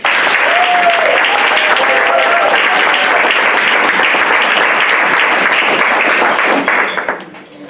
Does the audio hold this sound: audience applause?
yes